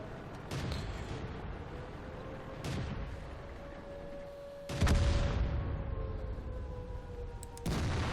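Tank cannon shots in World of Tanks, four heavy booms spread across several seconds, each followed by a long decaying rumble. They are loud and close, with the final blast among the strongest, and no talk is heard.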